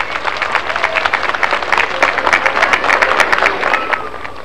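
Crowd applause at a public ceremony in Cochabamba honoring General Juan José Torres, many hands clapping in a lively, sustained burst with some cheering voices mixed in.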